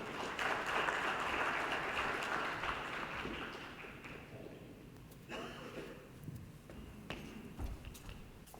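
A conference audience claps to welcome a business executive onto the stage. The applause is dense and sustained at first, then thins into scattered claps near the end.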